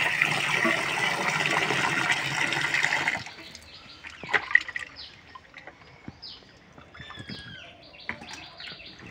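Fish being washed, water pours and splashes loudly for about three seconds, then scattered handling splashes and drips follow while birds chirp faintly in the background.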